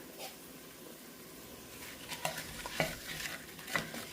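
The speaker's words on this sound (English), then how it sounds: "the oil is just coming up to temp and starting to cook down my frozen veggies" Frozen vegetables starting to cook in hot oil, a soft sizzle with a few stirring scrapes and clicks in the last seconds, quiet and with no talking.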